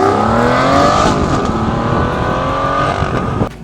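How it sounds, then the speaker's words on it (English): The naturally aspirated 6-liter V12 of an Aston Martin V12 Vantage S Roadster revs hard and loud up close, its pitch climbing steadily in a rich, unbroken howl before easing off at the very end. "It is still, a naturally aspirated 6-liter V12 engine"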